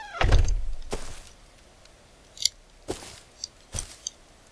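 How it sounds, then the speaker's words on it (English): A door opening in the survival game Rust: a loud scraping clunk at the start, followed by several quieter knocks and clicks spaced out over the next few seconds. "open the door."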